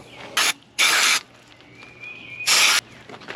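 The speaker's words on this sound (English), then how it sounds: "when you shoot your fluid, your cleaner, into an orifice" Aerosol cleaner sprayed into the carburetor jets of an old Chevy squarebody pickup: three short, loud hissing bursts, the middle one longest, close up with quiet gaps between.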